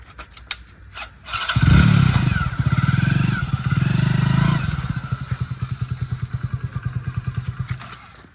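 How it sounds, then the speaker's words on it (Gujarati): A motorcycle engine starts and idles close by, a loud rough roar settling into a steady, chugging putter that lasts several seconds, with brief clatter before it. "આ રઘુજીનું બાઇક જ ફટકા દે 2 કલાકમાં."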